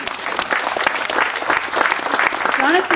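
A crowd at the official opening of the Peach Creek Rotary Trail claps in a lively outdoor burst, with voices mixed in under the applause.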